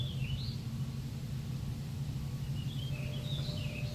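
Birds sing outdoors in faint, scattered chirps and short whistled phrases, distant above a steady low background rumble, with no voices.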